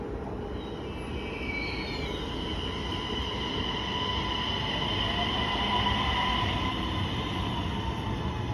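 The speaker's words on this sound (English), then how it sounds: "Our train is about to arrive." A train arrives at a station in Härnösand, Sweden, giving a steady rumbling roll with faint high squeals of wheels on rails, fairly distant and even throughout.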